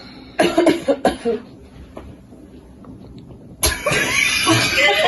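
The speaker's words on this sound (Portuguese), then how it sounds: "Tosse." A burst of several sharp, close coughs, a brief quieter pause, then a harsher, longer fit of coughing.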